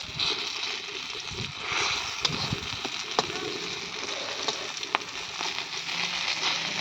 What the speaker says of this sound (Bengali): আর আজকে দেখতে পাচ্ছেন বাবা জাল দিচ্ছে, আর সাথে সাথে আমি ভেজে নিচ্ছি।